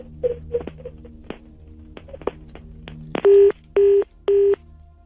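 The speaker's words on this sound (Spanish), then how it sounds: "Otra vez me colgó el teléfono" A telephone call ends with a few soft clicks and dialing tones, followed by three loud, evenly spaced busy-signal beeps after the line is hung up.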